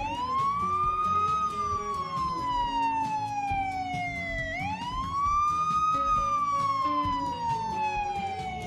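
A police car siren in a Roblox video game wails in two long slow sweeps, rising then falling in pitch, loud and close over a low engine-like background.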